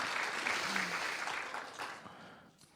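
Live audience applause at a Hebrew podcast reading recorded before an audience, a steady wash of clapping that fades toward the end with faint voices underneath.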